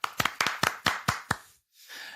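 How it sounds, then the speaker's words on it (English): A handful of sharp, close hand claps in an uneven burst on a hydroponics podcast, about seven claps over a second and a half, then a brief pause and soft noise. "So big round of applause to BioBizz"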